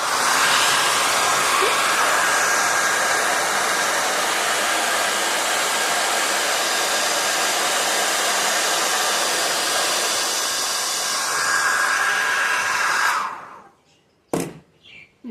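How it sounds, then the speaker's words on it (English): A hair dryer blows steadily on machine-knitted fabric being blocked for a cardigan panel, a loud continuous whoosh for about thirteen seconds before cutting off, followed by a couple of faint knocks. "A couple of seconds with the dryer."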